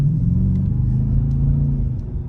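Dodge Charger R/T V8 engine giving a steady, deep, loud rumble close by, holding a low throaty drone throughout with slight surges.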